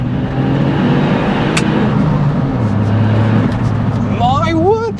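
A remapped Smart 451 Brabus on a drive, its engine humming as a loud, steady drone from inside the cabin, with a brief high whine rising near the end.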